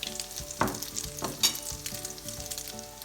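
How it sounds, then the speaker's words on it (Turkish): Zucchini fritters (mücver) fry in oil in a pan, a soft continuous sizzle with occasional louder crackles and pops, close and quiet, with no talking. "Her iki kısmı da güzelce kızarana kadar pişireceğim."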